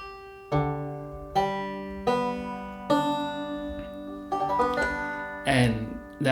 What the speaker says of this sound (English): Now, I have my banjo tuned in open G